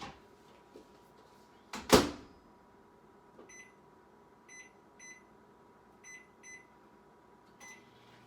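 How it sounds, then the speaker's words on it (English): A microwave oven is shut with a sharp door thud, then a series of short electronic keypad beeps sounds as it is set to cook a whole chicken, followed by the faint hum of it starting. "let's put it in the microwave 28 minutes"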